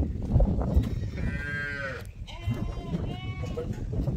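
A herd of cattle lows nearby, with several drawn-out moos rising over a rough outdoor background, while people talk at the same time.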